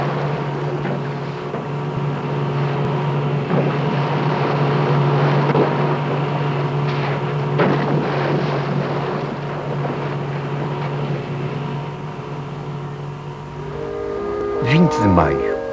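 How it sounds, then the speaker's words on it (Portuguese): A boat's engine drones at sea near the Maldives during a whale research expedition. The hum is steady, low and continuous under narration, with wind noise and a brief higher whine near the end. "O barulho do motor interfere com o sentido de orientação da Clyde."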